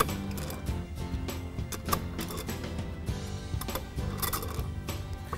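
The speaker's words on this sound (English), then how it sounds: "take your wrench, and you'll tighten down the bolts" Wrench tightening bolts in the T-slot of aluminum 80/20 linear motion framing: a faint, close series of rapid ratcheting clicks and small metallic clatters with short pauses.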